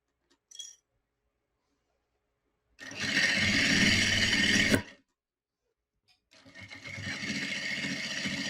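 A sewing machine stitches a seam on a fabric phone and document holder in two separate runs, each a fast, steady mechanical whirr lasting a couple of seconds, with a light click beforehand and silence in between.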